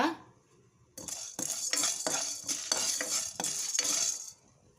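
A spoon scrapes and stirs spices through a dry pan in repeated strokes, with light sizzling and metal clinks close by, roasting them for tomato rasam masala.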